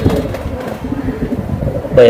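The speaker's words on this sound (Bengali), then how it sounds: "এটা কালীবাগা কবুতর পুরানো ঢাকার কালীবাগা কবুতর" Kalibaga pigeons from Old Dhaka give low, murmuring coos close by, mixed with people talking nearby.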